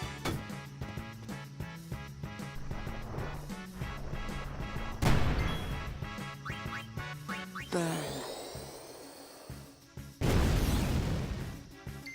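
The Seed Cannon attack in Final Fantasy X fires a rapid volley of crackling, popping shots over game music, with a sweeping whoosh and a loud burst of impact near the end.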